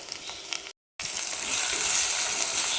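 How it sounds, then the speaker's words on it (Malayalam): Sliced ginger and green chilies fry in a pan over a medium flame while being stirred, giving a loud, steady hissing sizzle that cuts out briefly and then returns stronger. "ഒരു മീഡിയം ഫ്ലെയിമിൽ വെച്ചിട്ടാണ് ഇളക്കി കൊടുക്കുന്നത്"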